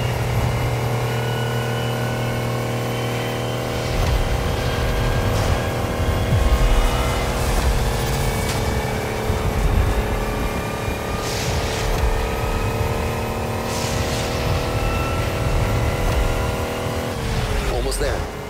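Race car in The Crew Motorfest video game, its engine droning steadily and swelling as it accelerates hard, a close and continuous roar through the whole stretch with brief gear-shift dips near the end.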